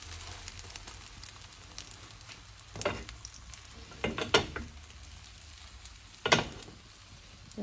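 An egg frying in a pan in a home kitchen, with a soft continuous sizzle and a few louder scraping, stirring bursts as it is worked and turned.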